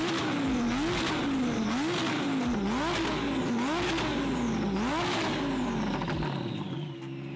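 A Lamborghini Huracan fitted with a $15,000 aftermarket exhaust system revs hard about six times in a steady rhythm, each rise ending in a sharp drop, loud and close, with no talk.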